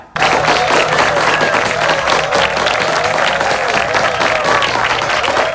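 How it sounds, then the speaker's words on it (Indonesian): Loud, dense applause and crowd cheering fill a hall as the third overall school champion, King Wijaya, receives a trophy at a report-card ceremony; sustained clapping from start to finish. "Tepuk tangan yang meriah untuk juara umum ketiga"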